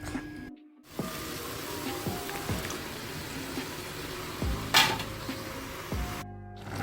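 Food sizzling and frying in a pot during catering cooking for about 20 people, with metal utensils clinking and scraping against it several times, close by and with no talking.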